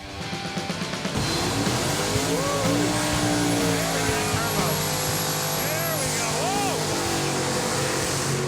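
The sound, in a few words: race car engine revving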